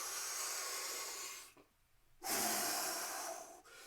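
A strong, forceful exhale in a breathing exercise, pushed out like a bellows: a long, loud, close breathy rush that follows a brief quiet gap after an earlier airy breath, with no voice over it.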